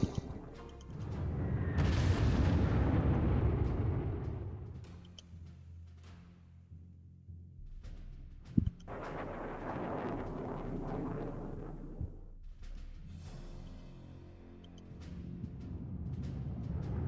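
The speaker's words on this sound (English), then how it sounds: "we can do a little bit of cheap strafing" Aircraft strafing gunfire in a World War II strategy game: loud, rumbling broadband bursts and booms that swell and fade across the stretch, with a sharp crack in the middle and no voices.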